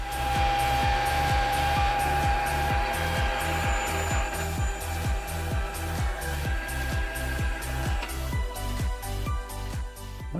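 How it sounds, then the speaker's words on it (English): A metal lathe faces off the end of a metal part, a steady loud machining whir with a dense repeating rhythmic chatter from the spinning chuck and a cutting hiss over it, no talk. "I gotta face this side off so I get a good surface"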